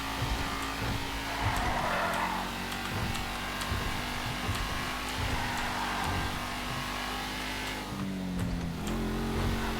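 Continuous engine drone from a car driven in GTA V, steady and fairly loud with shifting revs and occasional tire noise throughout, no voices.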